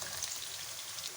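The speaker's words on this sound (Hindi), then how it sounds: "देखिए प्याज को ब्राउन कर रहे हैं" Onions fry in a pan for a quick biryani, giving a soft, even sizzle and crackle that stays faint and steady for a moment, with no voices.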